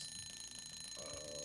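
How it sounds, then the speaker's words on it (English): Timer going off, a steady electronic alarm tone ringing continuously and faintly, alone with no talking. "timer just went off"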